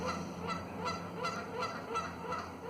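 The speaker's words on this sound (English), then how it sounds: "Oh, those would be Canadian geese." Canada geese honk repeatedly in Stanley Park, Vancouver, several calls rising at regular intervals of about a third of a second over steady outdoor background noise, moderately distant and alone without talk.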